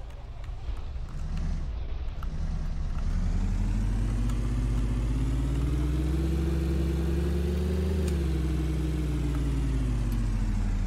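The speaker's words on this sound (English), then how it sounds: "To run the engine I'm pressing T." A classic car engine in an Unreal Engine game demo starts up and runs, a low steady rumble that swells and rises in pitch as it revs, then settles back, continuous with no talking.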